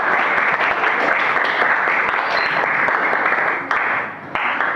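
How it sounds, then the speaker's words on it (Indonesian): Loud, steady clapping from a class audience for a presenting student group during a mathematics lesson, continuous throughout with slight dips near the end. "tepuk tangan sekali lagi untuk kelompok 6"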